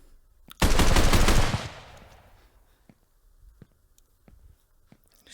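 In a budget CQB training simulation, a loud burst of gunshots fires close by for about a second, then a decaying reverberant tail gives way to faint scattered clicks and taps.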